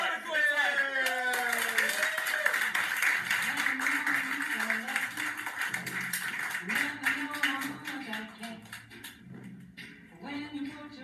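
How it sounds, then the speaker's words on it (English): An audience claps as the improv group Harlequin takes the stage, with steady close clapping mixed with voices and singing throughout. "So everybody, silently quiver and clap your hands, and please welcome to the stage"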